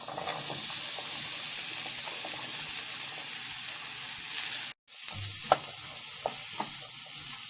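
Vegetables sizzle and fry in a pan for quinoa pulao, a steady loud hiss with scattered stirring scrapes and a brief dropout partway through, close and alone with no talking.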